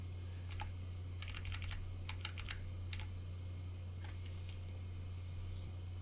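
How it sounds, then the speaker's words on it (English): Computer keyboard arrow keys tapped in short irregular clusters of light clicks, quiet and close, over a steady low electrical hum. "I'm just going to use the arrow keys to fiddle around with that and fine tune it"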